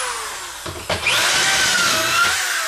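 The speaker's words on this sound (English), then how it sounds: "drill your hole, set your drill down" A power drill boring a pocket hole in a workpiece held in a clamped pocket hole jig, with a brief start and then a steady, loud whine running on to the end, no talking.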